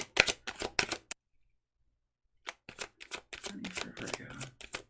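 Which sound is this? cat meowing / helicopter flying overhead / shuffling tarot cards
shuffling tarot cards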